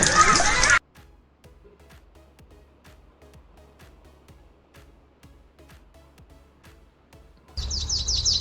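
A myna bird gives a quick run of short, sharp chirps, faint and evenly spaced, between louder bursts of music at the start and end.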